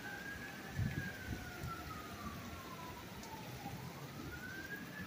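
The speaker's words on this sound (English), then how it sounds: "Sirens." Emergency vehicle siren wailing at a distance in a slow rising and falling sweep, heard through heavy rain drumming on a car during a rainstorm, with the downpour steady throughout.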